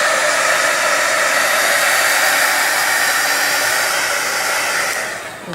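Hair dryer blowing steadily on a canvas coated with sealant, a loud continuous whooshing roar that holds evenly for about five seconds before easing slightly at the end; no talking.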